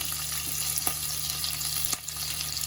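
Green chillies frying in a hot pan with curry leaves, a steady close sizzle with faint crackles and a single sharp tap near the end.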